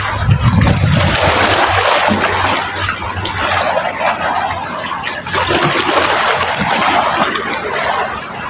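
Loud, continuous rushing water and surf wash close by on the Dumangas shore, a broadband roar that swells and eases without pause.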